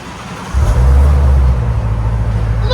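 A Ford Mustang GT350 with a 5.2L Voodoo V8 and six-speed manual, fitted with an X-pipe exhaust, heard from inside the cabin: a steady low exhaust drone that swells loudly after half a second and holds.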